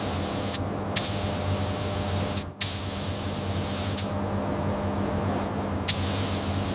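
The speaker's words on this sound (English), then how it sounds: "A fine mist of soft gray primer spreads across the Vespa frame" Spray gun laying a fine mist of gray primer onto a 1960s Vespa scooter frame during restoration, a steady continuous hiss with a few brief pauses and sharp restarts.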